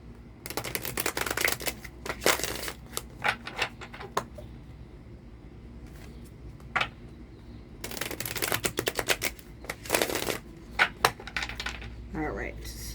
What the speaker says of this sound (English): I'm going to just shuffle a couple more times, cut the cards